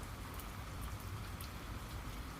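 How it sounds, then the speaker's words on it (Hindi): Steady rain falls as a sound effect in an animated folk tale, a faint continuous hiss of drops on a surface with no other sounds. "शाम से बारिश शुरू हो गई थी।"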